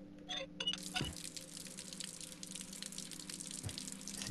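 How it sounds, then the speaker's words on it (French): Shower water running steadily in the video game Ether One, a constant hiss of falling water with a couple of brief taps and clicks near the start, continuous and moderately close with no voices. "C'est quoi cette douche du pauvre là?"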